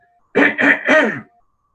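Someone clears their throat in three quick, close, rasping bursts, then it goes quiet.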